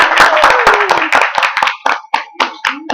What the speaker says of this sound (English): So give Fayola a round of applause,